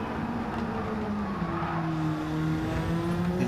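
A race car engine roars steadily through a tight left-hand turn at the Barcelona circuit during a GTCC championship race, loud and sustained with a rising pitch as it powers out of the corner.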